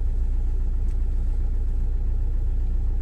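Steady low rumble of a car engine inside the cabin while driving into town on a snowy December morning, constant and close with no talk.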